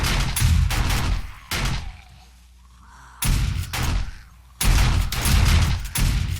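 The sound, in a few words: gunfire shooting into the ground in video game 7 Days to Die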